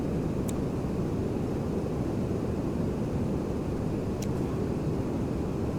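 Steady broad engine roar of a Laminar A330 airliner in X-Plane 12 as its thrust reversers are engaged, a constant rushing drone throughout, with a couple of faint brief clicks and no talk.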